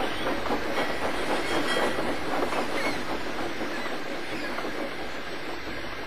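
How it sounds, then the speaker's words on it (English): A slow goods train rolls steadily along the track, a continuous rumbling roar with faint rhythmic clatter of wheels and a slight hiss, no talking. "That evening, James had to take the slow goods trains away."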